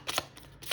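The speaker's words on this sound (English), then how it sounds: "It shuffles nicely." A small pocket-size deck of cards being shuffled, giving two or three quick, close riffling bursts separated by brief pauses.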